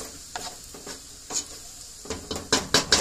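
Crispy rendered bacon is lifted out of a soup pot, with a metal utensil scraping and clanking against the pot in irregular bursts over a soft sizzle of fat, growing louder and busier toward the end.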